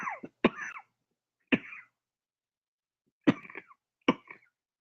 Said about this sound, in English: Had me coughing, boys.